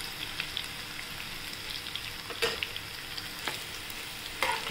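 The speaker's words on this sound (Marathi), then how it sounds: "आता बघा अजून व्हायचं आहे आपलं थोडं तळायला" Bitter gourd fries in a pan, a continuous soft sizzle with occasional louder crackles and stirring scrapes, fairly quiet and close, with no talk.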